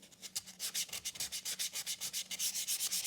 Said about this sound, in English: I have a 400 grit paper, and at this time I will do the final sanding for the inside of the box.